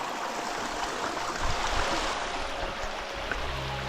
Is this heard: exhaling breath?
no